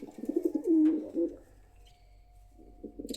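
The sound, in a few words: pigeons cooing in a pigeon loft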